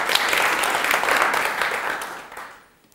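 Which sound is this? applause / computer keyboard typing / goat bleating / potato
applause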